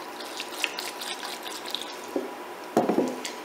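Milk added to a turkey dressing mixture: quiet wet trickling, then a short splashing pour near the end, heard up close with no voices.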